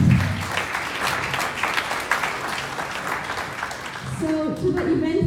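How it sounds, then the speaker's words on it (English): Audience applause at an Africa Night event on the TUM strategy in Africa, steady clapping filling the room for several seconds while a voice speaks over the end. "So please give yourself a round of applause for being here."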